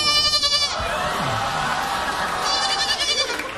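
Little goats from a farm bleat loudly and repeatedly on a talk show stage, wavering cries at the start and again near the end, with crowd murmur between.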